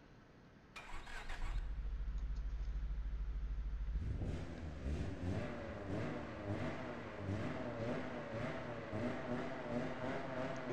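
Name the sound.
car engine running in video game Apex Point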